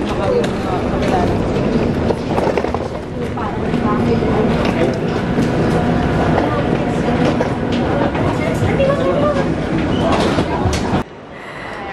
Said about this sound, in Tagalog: May tren na.